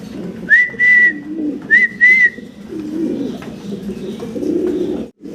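A male pigeon's soft cooing calls come in two bursts, with whistly notes, over a low background murmur of other birds.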